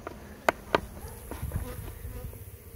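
Honey bees buzz at a low level during a hive inspection, a faint continuous hum broken by a couple of sharp knocks from handling the frames.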